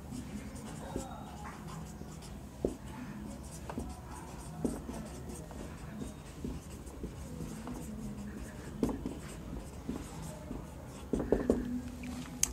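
Chalk or marker scratches across a board during a Bengali chemistry lesson, soft intermittent strokes and taps near at hand, with a few louder knocks toward the end and a quiet room behind.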